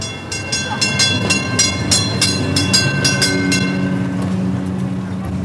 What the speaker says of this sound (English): The trams that run along Pera Street